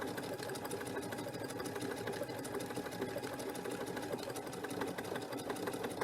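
A sewing machine stitches through thick upholstery fabric seams, running in a continuous, loud, rapid mechanical chatter from start to finish with no pauses.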